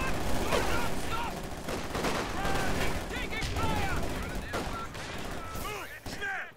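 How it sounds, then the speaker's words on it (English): Battlefield gunfire in Company of Heroes 2, dense rifle and machine-gun shots crackling near and far, with shouted voices mixed into the fighting. "Taking fire!"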